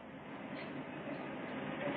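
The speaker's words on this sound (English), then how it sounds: "Well, there's our train." A train runs in a 1956 science-fiction film, heard as a steady, muffled rumbling roar that continues unbroken at moderate loudness.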